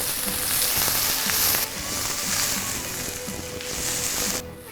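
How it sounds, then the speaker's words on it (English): Onions sweating and frying in a hot pan, a dense close sizzle that dips and swells as they are moved about, continuing steadily without speech. "And you start with your onions. Just slightly caramelize it, sweat it actually."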